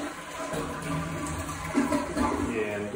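A malfunctioning toilet runs continuously in a house's second-floor bathroom, a steady hiss of trickling water rising slightly toward the end, heard close and alone.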